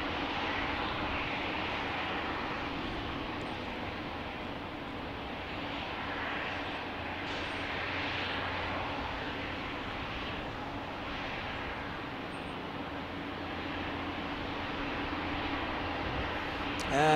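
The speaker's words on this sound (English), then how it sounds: "we've got Bombardier Challenger landing on 35" A Bombardier Challenger business jet landing on runway 35, a steady broad engine roar heard from a distance, sustained and even throughout without any talk.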